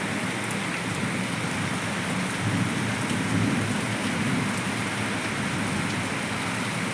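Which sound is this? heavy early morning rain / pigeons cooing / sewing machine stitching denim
heavy early morning rain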